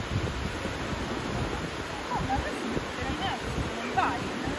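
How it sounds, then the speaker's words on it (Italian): Waterfall plunging from above into a basalt column canyon in Iceland, a constant loud roaring rush of water with wind buffeting the microphone and faint bird-like chirps over it. "la cascata che crolla esattamente da sopra."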